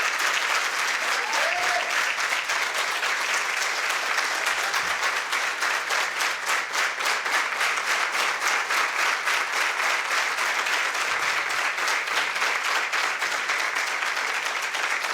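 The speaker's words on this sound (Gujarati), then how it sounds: "માટે એને જોરદાર તાળીઓ છે આપણે" A temple audience applauds during a Murti Pratishtha ceremony in Melbourne, with dense, sustained clapping from many hands that holds steady and loud for the full stretch, with no voices standing out.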